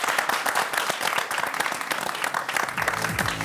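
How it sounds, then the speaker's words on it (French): Warm audience applause at a student open-day broadcast, thick continuous clapping mixed with faint crowd murmur throughout. "On l'applaudit très fort à Enor"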